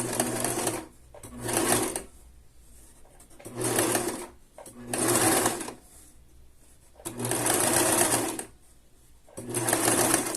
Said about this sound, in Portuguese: eu tô aqui costurando só pra poder demonstrar o ponto zigue-zague